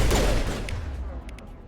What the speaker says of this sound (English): Are they shooting at me from the train?